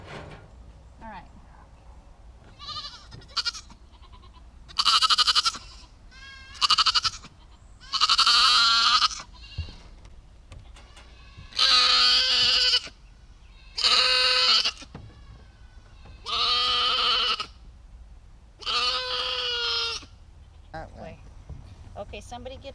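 Goats bleat loudly in a string of drawn-out calls, about seven in a row with short gaps, close by over faint background voices.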